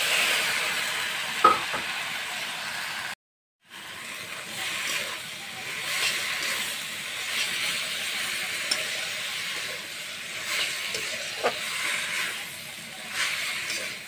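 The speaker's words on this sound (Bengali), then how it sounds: "এখন আমি কচুর ফুলগুলো দিয়ে দেব।" Boiled taro flowers stirred into a spice masala with dried bombay duck in a pan, giving a steady soft sizzle and frying hiss with occasional stirring scrapes, briefly cut off near the start, no talk.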